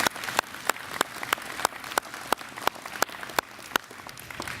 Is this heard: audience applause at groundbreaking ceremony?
yes